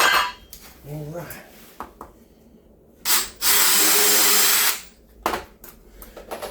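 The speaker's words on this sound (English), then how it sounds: "having that tapered drill bit with a countersink on it, you ain't got to sit there and search for drill bits" A power drill fitted with a tapered countersink bit bores into cabinet material during a rebuild. It gives a loud whirring burst of about a second and a half, with shorter bursts before and after and a brief voice nearby.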